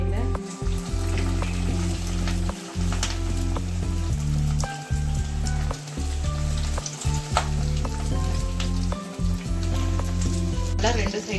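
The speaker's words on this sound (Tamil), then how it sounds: "எல்லாம் ரெண்டு சைடும் கோல்டன் ப்ரவுன் வர வரைக்கும் ஃப்ரை பண்ணுங்க" Chicken drumsticks deep-fry in hot oil with a loud, continuous sizzle and crackle, with dense bubbling and occasional pops and a low rumble under it.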